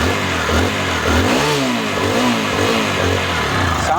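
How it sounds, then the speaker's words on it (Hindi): A TVS Raider motorcycle engine, just refitted with new clutch plates, runs close by and is revved repeatedly in rising and falling surges over a steady idle. "मोबिल डाल के बाइक को स्टार्ट करके मैं आपको दिखाता हूँ"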